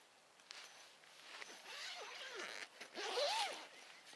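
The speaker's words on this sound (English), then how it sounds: "when you zip the door up, I hope you can see here, it wants to pull against the" An ultralight one-person backpacking tent door zipper is pulled in several short, rasping strokes, close and fairly quiet, with the zip dragging unevenly against the fabric.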